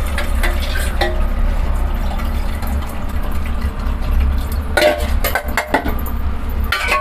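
Dissolved tamarind water poured into a pot of simmering spicy fish curry, with a steady bubbling hiss and occasional clinks and stirring clatter from the pan, close and fairly loud.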